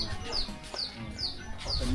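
Chickens cluck in short bursts in a rural Pacoh ethnic village near the Vietnamese border, the clucks fairly close and repeated under nearby talking.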